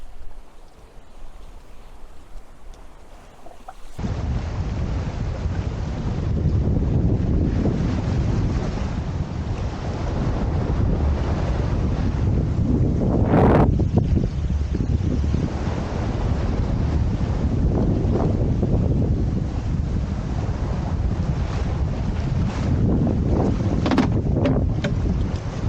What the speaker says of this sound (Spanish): El viento está arreciando y la mar también.